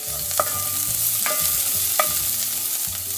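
Mustard seeds, curry leaves and onions frying in oil in a pan, a steady sizzle broken by three distinct scrapes of a spoon stirring, heard up close with no talking.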